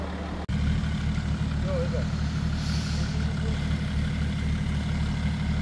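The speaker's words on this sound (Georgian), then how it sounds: "გაუჭირდა ერთ მანქანას ეხლა და მეორე მანქანით ვცდილობთ რომ რიანო მობილის მანქანა ამოვიყვანოთ" A heavy engine drones loud and steady as a second car strains to pull a stuck Renault car free during a rescue in Guria, Georgia, with a brief cut at the start.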